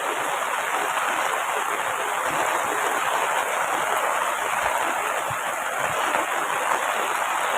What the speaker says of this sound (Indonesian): hujannya semakin deras nih.